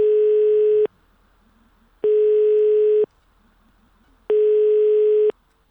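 A landline telephone call signal sounds in three long, identical electronic tone bursts, each about a second long, separated by even pauses of silence, loud and clean with no voices.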